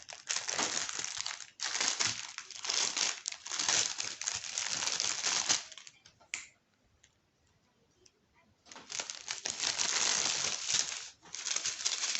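Crinkly plastic packaging of a diamond painting kit being unwrapped up close, with bursts of crackling and crumpling, a quiet pause midway, then more rustling.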